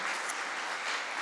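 A church congregation claps together after a blessing prayer at a Korean Sunday morning service on an air force base, dense continuous applause throughout.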